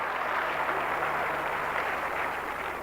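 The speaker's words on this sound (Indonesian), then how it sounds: "Tepuk tangan yang meriah bagi Allah kita." Congregation applauding during a church sermon, a dense, steady wash of clapping that fills the short stretch at an even level with no voices.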